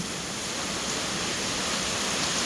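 Rain pours on a small field hut in the rice fields, its roof still unfinished, a dense, even hiss with no breaks and no voices.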